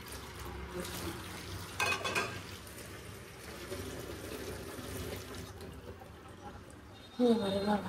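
Chicken heating in a pan in a home kitchen: low continuous sizzling with occasional clinks of a utensil against the pan, and a louder scrape near the end.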